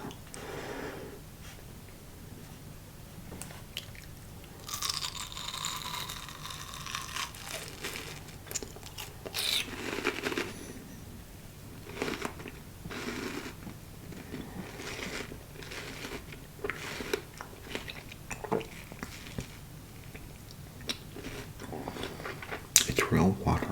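Close, crisp chewing and biting on crunchy, watery exotic fruit, with irregular wet crunches and mouth sounds over about twenty seconds and a bit of quiet talk in between.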